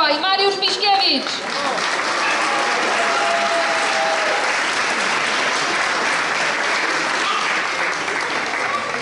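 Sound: applause for half-marathon runners

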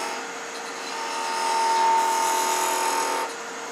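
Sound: parting or captive ring tool cutting on a wood lathe

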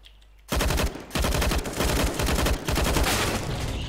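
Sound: gunfire in a video game

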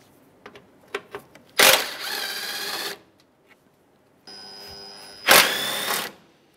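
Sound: removing 10 mm bolts from Acura MDX bumper

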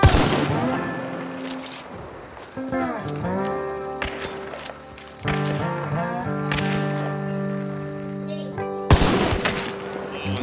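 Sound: gunshot headshot in Hunt: Showdown video game

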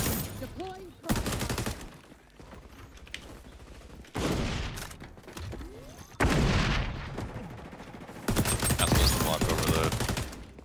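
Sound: LMG machine gun hip fire in a video game

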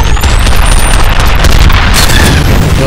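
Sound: laser weapon firing in video game F.E.A.R

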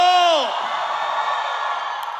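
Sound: church audience shouting on request

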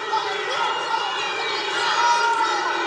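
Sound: crowd chanting Rubio's name at an MMA fight

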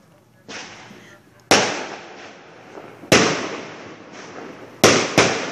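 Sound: neighbors setting off fireworks celebrating Cubs win

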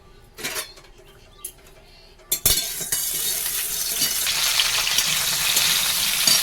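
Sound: okra (ladies' finger) frying in a pan

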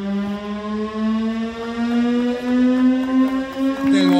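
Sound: fire station siren

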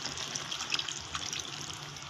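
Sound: pouring a cup of water into chicken feet adobo

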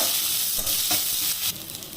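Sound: onions sizzling while frying in pan

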